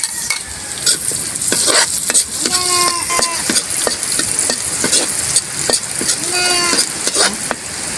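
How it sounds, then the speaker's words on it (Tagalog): Garlic and onion sauté in a pan for paksiw na pata, a loud steady sizzle broken by frequent scrapes and clatters of stirring, with brief tonal sounds in the background. "Mag-isa na tayo ng ahos. Sunod yung sibuyas."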